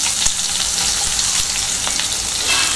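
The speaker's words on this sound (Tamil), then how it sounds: "வெங்காயம் போட்டு நல்லா வதக்கியாச்சு, நல்லா ஃப்ரை ஆயிடுச்சு." Onions with curry leaves and green chillies sautéing loudly in a pan for carrot rice, a dense bright sizzle with occasional clicks of stirring, close and without speech.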